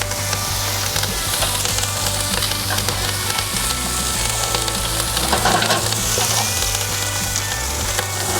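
Ribs crackle and sizzle steadily on a charcoal grill as they are flipped and turned, a dense, close hiss with occasional clacks and scrapes from handling the meat.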